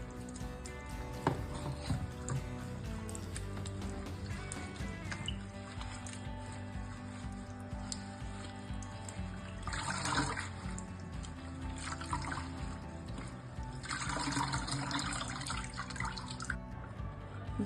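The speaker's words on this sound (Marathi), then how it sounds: "साधारण दोन पाण्याने स्वच्छ धुवून घ्यायचं यावरची माती वगैरे सर्व निघून जाते" Fenugreek leaves being washed in water: gentle splashing and trickling with occasional louder swishes of handling, close by and steady throughout.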